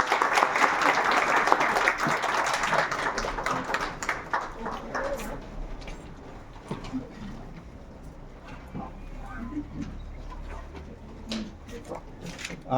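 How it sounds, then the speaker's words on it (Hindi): Students in a classroom applaud their teacher with vigorous clapping for the first few seconds, fading into scattered claps and room noise with some talk. "जोरदार तालियां सर के लिए"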